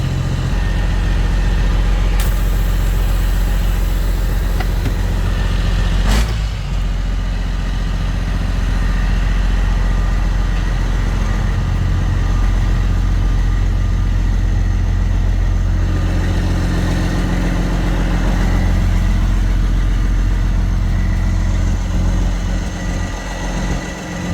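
A Detroit Series 60 diesel engine in a truck idles with a steady, loud low rumble that holds without a break from start to finish, with a short sharp knock partway through and no talk.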